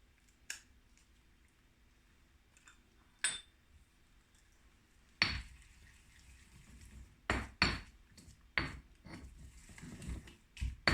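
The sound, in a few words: stirring tomato paste into curry paste in a pot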